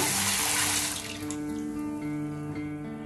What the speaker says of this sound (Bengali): তারপরে এখন একটু ভালোভাবে ধুয়ে নেব।